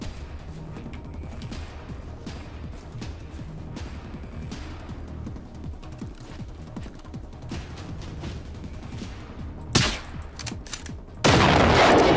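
Weapons fire at enemies in the Generation Zero shooter game, rapid clattering shots over a busy rumbling background, then a sharp burst and a loud sustained blast near the end.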